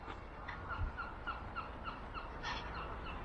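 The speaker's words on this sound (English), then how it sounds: "Here's a lot of birds congregating." A flock of birds calling together outdoors, with repeated turkey-like gobbling bursts spaced roughly every third of a second over steady background noise, moderately distant.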